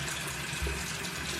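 Water splashes continuously at close range as a face is washed during a skincare routine, a steady wet rush with no talk.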